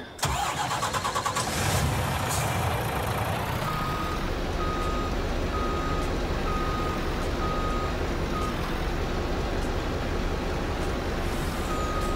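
Truck reverse alarm in Landwirtschafts-Simulator 19, a steady repeating beep pulsing over a loud, continuous engine rumble that starts up at the opening and keeps running throughout.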